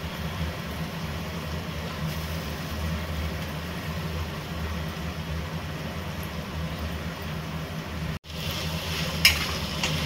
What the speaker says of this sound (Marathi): बटाटे टाकल्यानंतर सुद्धा हे चांगल्या प्रकारे तुम्हाला मिक्स करून घ्यायचं आहे कढईमध्ये